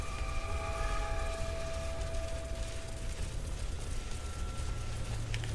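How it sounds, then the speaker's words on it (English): A robot in the Fallout 4 video game chugs along with train-like rumbling and mechanical clatter, joined by brief whistle tones, steady and moderately quiet. "This thing makes train noises."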